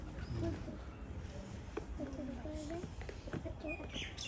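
Soft, low pigeon coos repeat in short rolling phrases under a steady background murmur and nearby voices.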